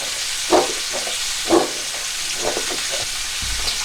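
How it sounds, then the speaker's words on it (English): Mushrooms and spiced zucchini sautéing in a pan, a steady soft sizzle broken by a few sharper scraping stirs and clatters, close and moderately loud with no talk. "I'm going to take them and saute these mushrooms for 5 minutes or so, and I'm going to dump those in"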